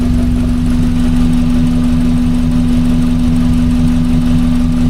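A 1982 VW Westfalia van engine runs at a steady idle, a loud continuous hum with a strong low drone and faint knocking texture, heard alone without any talk.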